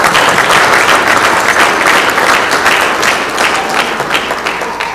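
Wedding guests break into loud, dense applause during the ceremony, a sustained wash of many hands clapping up close that tapers slightly toward the end.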